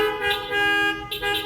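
Several car horns blare in overlapping bursts, sustained tones cutting in and out over a low background rumble.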